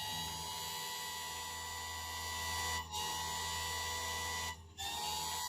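A GÜDE GKS 108 chainsaw sharpener runs with a steady, close, high-pitched grinder whine and hum. The tone dips briefly twice as the wheel meets the chain.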